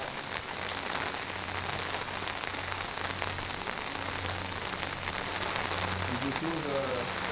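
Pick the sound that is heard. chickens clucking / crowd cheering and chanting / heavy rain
heavy rain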